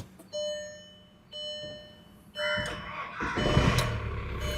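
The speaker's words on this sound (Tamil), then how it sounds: "அந்த டீசலுக்கான அந்த ஒரு கிரண்டோட ஸ்டார்ட் ஆகுது. அண்ட் அந்த செக்யூரிட்டி 3 பீப்போட உங்களுக்கு ஸ்டார்ட் ஆகுறத நம்மளால் பார்க்க முடியும்." A Skoda Octavia Combi MK1 diesel sounds a few security beeps. The engine then cranks and catches into a rough, close idle.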